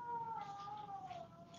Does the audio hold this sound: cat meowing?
yes